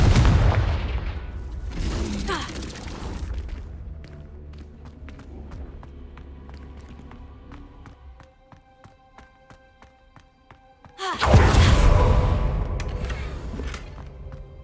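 A Confringo blasting spell goes off in the Hogwarts Legacy video game, giving a loud broadband burst and rumbling boom. It rises sharply out of quieter game ambience with scattered clicks and tones near the end.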